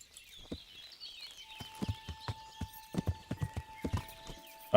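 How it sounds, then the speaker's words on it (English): Horse hooves clip-clop on a path in the medieval video game Kingdom Come: Deliverance, a steady uneven walking rhythm of sharp knocks, moderately close, with faint ambient tones and birdlike chatter behind. "It always sounds like there's the sounds of our horse coming from further away from us."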